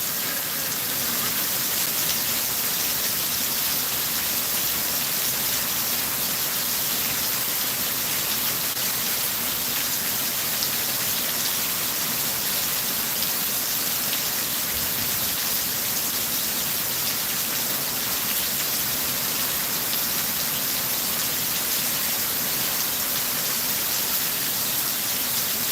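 Heavy rain pours in a steady, dense hiss that stays loud and unbroken for the whole stretch, with no voices or other sounds on top.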